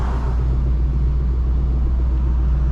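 A car engine rumbles steadily at a car meet, a deep continuous low drone from a vehicle peeling off, with no voices over it.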